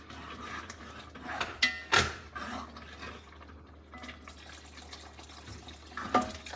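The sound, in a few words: pouring water into black gram and kale soup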